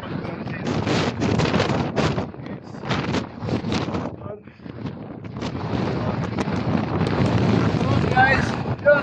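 Strong wind buffets the microphone on a mountain summit in gusty, roaring bursts that swell and fade, loud and close throughout.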